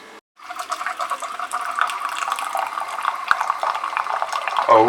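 Water streams steadily into a dog's bowl for nearly five seconds, a close, continuous pouring sound after a brief pause at the start, with a faint gurgle near the end.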